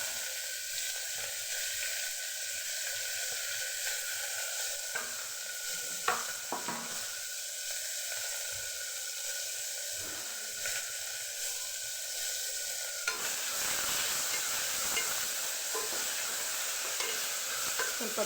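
Vegetables including onion, garlic and tomato fry in oil, making a steady close sizzle with occasional stirring clatters and a brief louder burst near the end; no voices.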